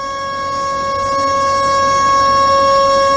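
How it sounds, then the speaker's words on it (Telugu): A civil defence siren sounds a loud, continuous, steady wail for the nationwide mock drills, swelling slightly and heard alone without talk. "ఇదే సైరన్ రేపు దేశవ్యాప్తంగా మాక్ డ్రిల్స్ నిర్వహించేందుకు సైరన్ మోగించబోతున్నారు."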